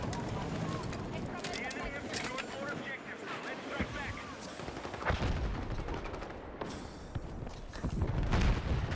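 Gunfire in Battlefield 6, a military shooter game, with dense bursts of shots layered over busy battle noise and a voice talking throughout.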